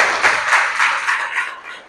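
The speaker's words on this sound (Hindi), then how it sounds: "बहुत बढ़िया, एक बार तालियां बजाने के लिए।" Audience applause at a guest lecture in a science college, a dense, steady crowd clapping that stays fairly loud and close throughout before tapering off slightly at the end.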